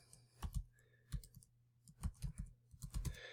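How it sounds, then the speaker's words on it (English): Keys tapped on a computer keyboard in a quick, close run of crisp clicks, typing a short phrase into a search field in bursts with brief pauses, with no voice over it. "I can also type in home improvement"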